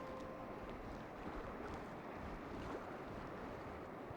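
Fast, heavy river current with big standing waves rushes steadily close by, a dense continuous roar of churning water with some wind buffeting, no talk.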